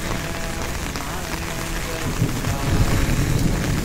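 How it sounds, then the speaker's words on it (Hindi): Heavy rain pours onto an empty road in Subhash Nagar, Jammu, a dense steady hiss that swells slightly louder partway through, close around the listener under an umbrella. "रोड पे मैं बारिश में छाता लेके निकल गया हूँ फिर से अपने सुभाष नगर वाली रोड पे।"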